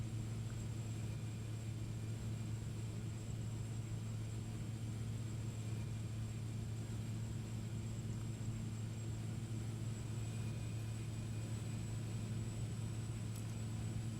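De Havilland Otter engine in the X-Plane 11 flight simulator over Alaska, a steady droning propeller hum with a low rumble, faint and unchanging throughout, no talking.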